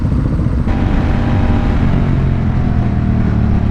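A Honda Rebel 1100 DCT cruiser motorcycle in sport mode on a racetrack, engine roaring loud and steady as it accelerates, a continuous close-up drone with a slight shift early on.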